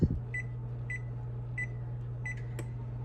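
Oven control panel beeps five times at uneven intervals as the temperature is changed from 350 to 425, faint over a steady low hum, no talking.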